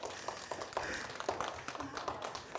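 A small group of people claps at a top-teacher award surprise, a brief, fairly faint patter of hand claps heard alone.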